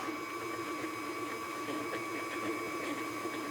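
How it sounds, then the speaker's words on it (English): Close, continuous whir of an electric mixer beating butter and sugar together in a bowl, a steady buzzing drone with a faint rhythmic churning texture and no speech. "we're gonna beat the butter with the sugar until it's fully emulsified together"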